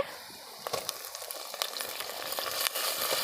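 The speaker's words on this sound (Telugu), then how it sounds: "టమోటాలు బాగా మెత్తగా కుక్ అవ్వాలి చూడండి బాగా మెత్తగా వేయించుకుందాం టమోటాలు అయితే" Tomatoes frying in a clay pot for a fish curry, a steady close sizzle with crackling pops and occasional stirring sounds.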